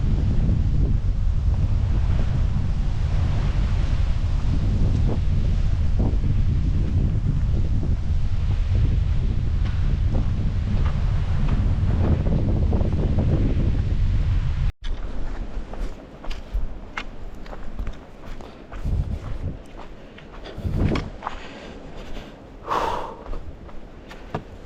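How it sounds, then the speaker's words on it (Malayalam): Wind blows steadily through green forest on the Agasthyarkoodam trek, a loud continuous rush against the microphone that gives way after the midpoint to quieter, uneven gusts and rustling bursts. "നല്ല കാറ്റുണ്ട് കേട്ടോ അവിടെ."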